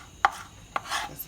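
Two crisp knife chops through a spring onion on a cutting board, close and distinct, separated by about half a second, with a soft rub of the blade afterwards and no talking.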